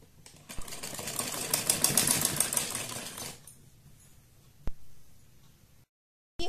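A sewing machine stitches the side seams of a sleeveless baby dress, running in a loud, steady whir for about three seconds before stopping. A single sharp click and a softer mechanical sound follow.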